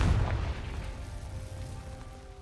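A Confringo fire spell blast in Hogwarts Legacy: one deep, muffled boom at the start that rolls off into a low fading rumble, with no talking over it.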